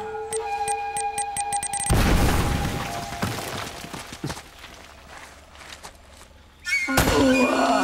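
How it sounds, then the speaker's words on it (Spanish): A loud grenade explosion in Uncharted: Drake's Fortune Remastered on PS4 booms after a run of clicks, then debris clatters and fades before a new burst of loud game noise cuts in. "Cuidado que me ha tirado la granada."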